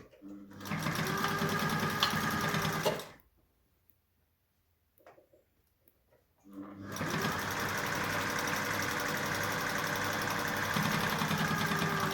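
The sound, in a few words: sewing machine top stitching a fabric face mask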